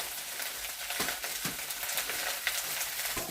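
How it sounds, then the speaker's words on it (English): Leftover rice frying in a pan, a steady broadband sizzle with soft periodic scrapes and stirs every half second or so, close and moderately loud, with no voices. "adding my leftover rice from last night"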